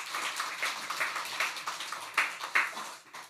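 A church congregation claps after a choir's hymn at a Sunday service, a soft, fairly distant scattered applause with a few sharper claps standing out, fading toward the end.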